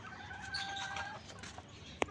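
Desi hens on a poultry farm where eggs are being collected, heard as soft clucking and calls under a steady background, followed by a short sharp click or knock near the end.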